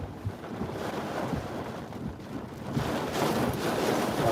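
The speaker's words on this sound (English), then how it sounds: "mile an hour winds coming over Perry now, just under hurricane force winds on Doppler" Hurricane Idalia's near-hurricane-force winds roar over Perry, Florida, a steady broadband rush with buffeting microphone wind noise that swells louder toward the end.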